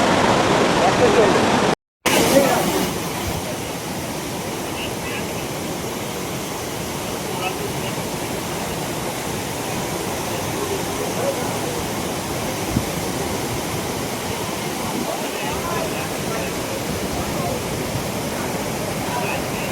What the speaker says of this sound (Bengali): আমরা এখন দেখছি দাসাম ফলস